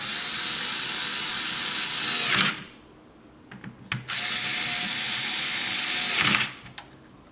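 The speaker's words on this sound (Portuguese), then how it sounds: "só vou dar mais um apertinho com a chave 8 e botar ele de volta no lugar" Mechanical whirring on a Yamaha XV 250 Virago motorcycle starter motor, with an 8 mm wrench being tightened on its bolt: two long sustained buzzing runs, each ending in a louder burst, separated by quiet with a few sharp clicks.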